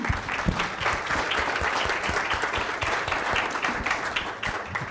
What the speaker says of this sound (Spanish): otra vez un fuerte aplauso para este panel